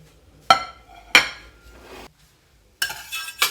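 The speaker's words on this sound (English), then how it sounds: "let's go ahead and get these out of this hot pan and onto a plate." Cheese cookies scraped and lifted from a hot pan onto a plate: a few sharp metallic scrapes and clinks of a utensil against the pan, separated by short pauses, close and fairly loud, with no talking.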